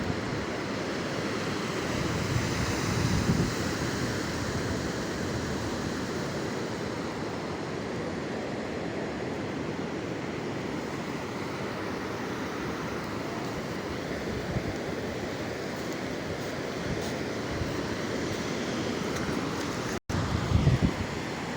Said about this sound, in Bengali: পানিগুলো আবার নেমে যাচ্ছে